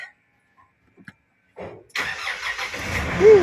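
A car engine turns over and starts after brief handling noises, then settles into a steady, close idle before the car reverses, with a short high squeak near the end.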